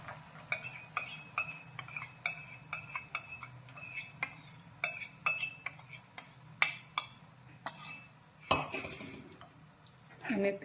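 Spoon stirring gram flour masala paste into softened spring onions in a pan, with repeated clinks and scrapes of metal on cookware in an irregular rhythm, close and fairly quiet, with no talking.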